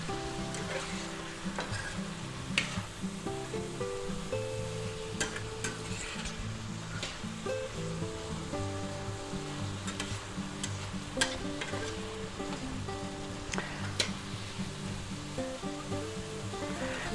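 Pork, vegetables and mushrooms stirred in a hot pan, with steady loud sizzling and frying throughout and repeated scrapes and clinks of the utensil against the pan.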